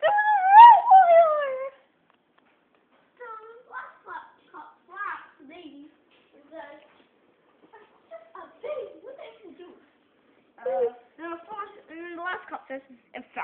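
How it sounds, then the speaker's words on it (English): A dog gives a drawn-out howl, then a string of shorter whimpers and yips broken by pauses, ending in a final burst of whining. The sounds are close and clear, with no talking. "Bad dog!"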